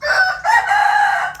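A rooster crows loudly and up close at a house-warming gathering, one long drawn-out call with a short break partway through, with no talk over it.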